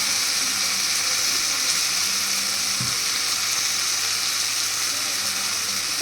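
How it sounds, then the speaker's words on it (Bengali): A little water goes into a pan of spices and whole chillies frying in hot oil for an egg and potato curry; a steady, close sizzle runs throughout, broken by one brief splash. "এবার আমি এর মধ্যে দিচ্ছি এখন একটুখানি জল।"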